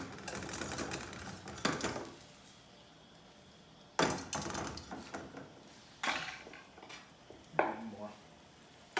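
A sauce being whisked in a pan, heard as several bursts of brisk scraping and rattling strokes separated by short quieter pauses, close and fairly loud.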